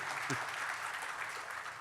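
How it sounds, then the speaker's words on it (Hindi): Audience applause at an Indian agricultural awards ceremony, a steady, distant wash of clapping from a crowd that holds even for the whole stretch. "खुल के हमारे आप पास तालियां बजा सकते हैं जी।"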